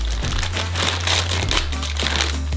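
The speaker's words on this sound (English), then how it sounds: "Open up some sugar" A package of sugar being opened, crinkly paper or plastic rustling and tearing for a couple of seconds over a low steady hum.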